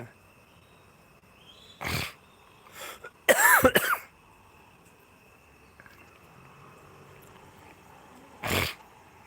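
Several separate coughs from a person with a cold break a quiet background, including one harsh, strained burst, with pauses between them and a final cough near the end.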